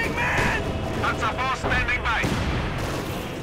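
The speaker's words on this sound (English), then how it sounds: "Mortar is blasting away as well." Mortar fire in the strategy game Company of Heroes 2 booms and thuds repeatedly inside dense battle noise, heard under a commentator's continuous talk.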